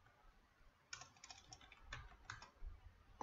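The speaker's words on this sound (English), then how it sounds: "Now let me type another role name" Keys clatter on a computer keyboard as a role name is entered into a search field, a short, faint run of quick keystrokes in small bursts with no voice.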